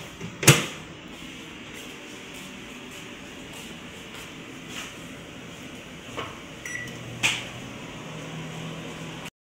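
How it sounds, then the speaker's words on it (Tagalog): A microwave oven heating frozen pizza gives a steady low hum throughout, with a sharp click or door clunk near the start and a couple of faint beeps later, close and moderately quiet. "So, initin natin sa microwave, guys."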